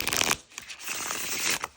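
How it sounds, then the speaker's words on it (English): A linen-finish card deck being shuffled close up, a quick riffle followed by a longer swishing, crisp flutter of cards, short and fairly quiet with no talking. "We've got this awesome linen. It shuffles like a dream."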